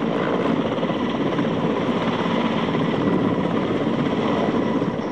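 A steady, loud rotor drone of a Mi-17 military helicopter fills the whole stretch, continuous and unchanging with no voices.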